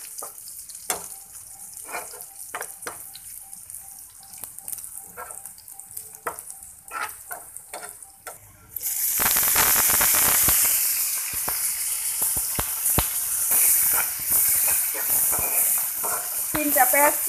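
Chopped onions, three of them, frying in a pan over an LP gas stove, starting after a quieter stretch as a loud, steady sizzle with stirring clatter that continues throughout.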